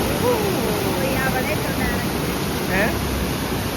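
Water rushes out through four open shutters of Malampuzha Dam, a dense, steady roar of broadband noise that stays loud and unbroken throughout, with faint voices underneath.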